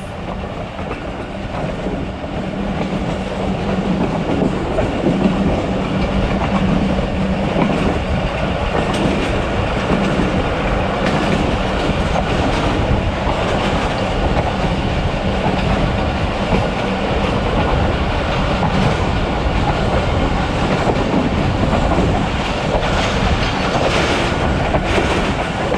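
Aboard the Thal Express passenger train between Rawalpindi and Multan, a loud continuous rumble of wheels on rails with steady clickety-clack runs throughout, with no voices.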